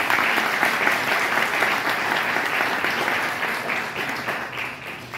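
An audience at a gathering in Rome applauds continuously, a dense sustained clapping that fades slightly toward the end, with no speech on top.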